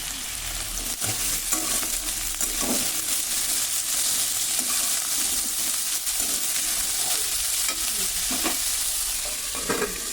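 Potatoes fry in oil in a pan, a loud, dense sizzle that holds steady throughout, broken by occasional stirring scrapes and knocks, heard close with no talking.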